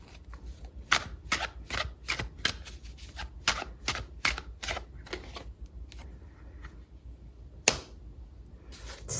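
Tarot cards are shuffled and pulled in a love reading, giving a string of crisp close snapping and riffling flicks spread irregularly across the quiet, with one sharp louder slap late on.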